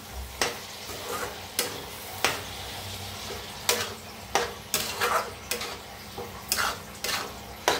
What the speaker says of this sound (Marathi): आता डाळीला मिक्स करून घेऊया।